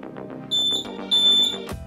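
A homemade laser security alarm sounds two sustained high electronic beeps, each about a third of a second, over a busy background of other sounds, ending with a sharp noisy burst.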